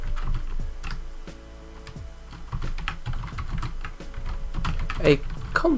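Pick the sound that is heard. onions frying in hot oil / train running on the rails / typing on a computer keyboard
typing on a computer keyboard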